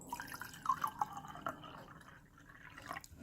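Refrigerated tap water is poured from a small glass pitcher into a cup, making a quiet, close trickle with a few distinct drips and splashes that fade toward a soft fill.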